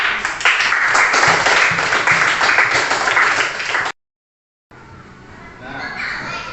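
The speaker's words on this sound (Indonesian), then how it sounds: "Tepuk tangan." A group of children clapping loudly and continuously in a classroom, then a brief silence before softer clapping and chatter resume.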